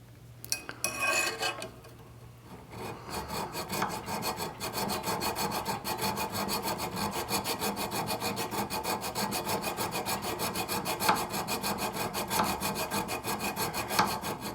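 A hand spokeshave shaves the wooden top of an archtop guitar near its edge, giving a long run of fast, even rasping strokes that come close and steady after a few quieter, scattered scrapes at the start.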